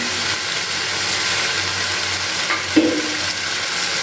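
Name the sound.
spice masala frying and being stirred with added sugar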